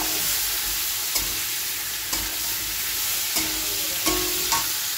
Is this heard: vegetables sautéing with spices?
yes